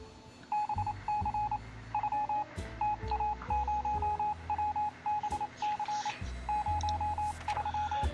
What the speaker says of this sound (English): They didn't give us exact dates in the radio transmission